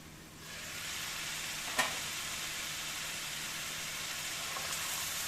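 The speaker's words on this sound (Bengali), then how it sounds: "এবার পেঁপে আর আলু একসাথে আমি ভেজে নেব।" Papaya and potato pieces frying together in a pan for a vegetarian curry, a steady close sizzle with one brief clink near the start and no talking.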